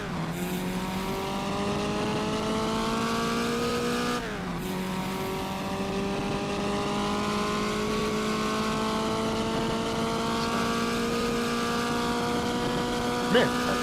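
A vintage 1960s historic sportscar braking in a racing video game. A loud, sustained engine drone drops in pitch as it slows, briefly rises again, then settles, with a faint voice under it.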